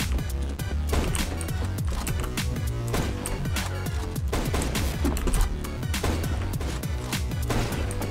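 Rapid gunfire in a snipers-only CS:GO match, dense cracking shots and impacts layered densely throughout over constant game noise, loud and continuous with no clear gaps.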